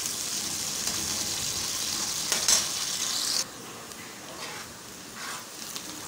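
One thinly sliced onion frying in a cup of oil, giving a steady bright sizzle with a few scraping stirs of a spoon; the sizzle drops sharply partway through, then continues softer.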